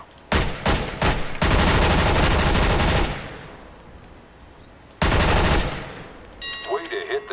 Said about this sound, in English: Pick up that weapon and unload the clip into the target. Observe your bullet spread and weapon MP9.